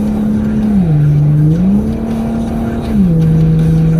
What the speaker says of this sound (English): this car picks up fast with the rain tires.